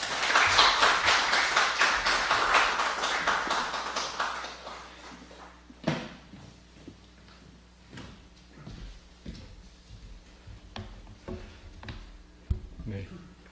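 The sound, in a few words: audience applause welcoming the speaker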